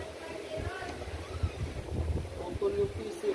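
Strong night wind outdoors buffets the microphone in uneven low gusts that rise and fall, fairly faint overall, while people talk over it.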